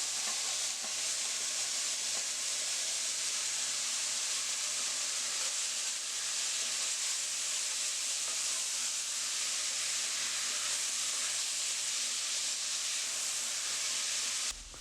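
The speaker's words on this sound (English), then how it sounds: "I add a half a cup of sherry cooking wine, and so you just allow that to cook down till everything reduces out" Sherry cooking wine simmers and reduces in a pan with mushroom chowder ingredients, giving a steady, close hiss and sizzle that holds unbroken throughout.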